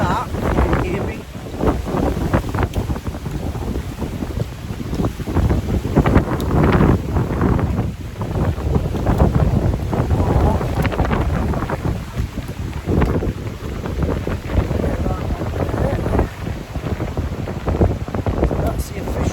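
Strong, blustery wind at the start of a Hadrian's Wall walk buffets the microphone in loud, continuous rumbling gusts, with people talking underneath.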